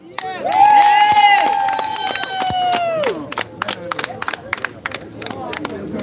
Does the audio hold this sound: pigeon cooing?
no